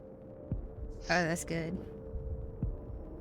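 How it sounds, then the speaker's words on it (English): Heartbeat sound effect during a Dungeons & Dragons Curse of Strahd tabletop session: two dull, low thumps about two seconds apart, with a short spoken remark between them. "Can you do a heartbeat sound?"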